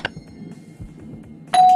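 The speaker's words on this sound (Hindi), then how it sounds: "ये बच्चा लोग जो घंटी बजा के भागा है" In the Scary Teacher video game, kids ring a doorbell: a bright electronic chime sounds once at the start and again near the end, louder, with quiet footsteps and rustling between.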